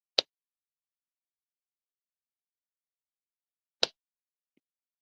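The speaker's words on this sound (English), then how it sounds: "that putty makes that popping sound that you hear on people's videos" Two sharp, isolated pops about three and a half seconds apart as putty is pressed on and pulled off a diamond painting pen, each crisp and close against near silence.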